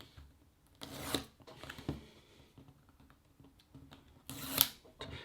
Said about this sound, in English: we're going to open this bad boy up and we have the nice easy little tear pieces here